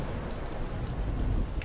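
Steady rain in the video game Unblooded hisses evenly, a dense wash of falling drops with a low rumbling undertone, no voices present.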